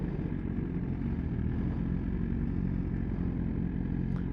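A Kawasaki ZX10 superbike at a bike night, its engine giving a steady, dense low rumble throughout with no clear revving, heard alone.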